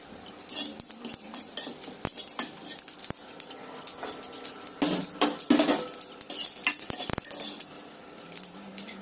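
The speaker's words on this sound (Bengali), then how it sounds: "একটু জিরা ভেজে নিচ্ছি তরকারিতে দেবার জন্য।" Cumin seeds fry in a pan on a home stove for a curry, with sharp metallic clinks of a utensil against the pan over a soft crackle, loud and close.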